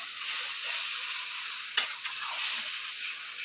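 Lentils and potatoes stir-fried with masala in a pan, a steady soft sizzle throughout with a couple of sharp scraping strokes of the spoon near the middle; no talking.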